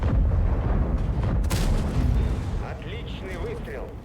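A tank cannon fires in a video game, a single heavy boom with a sharp crack partway through and a rumbling decay that fades over a few seconds.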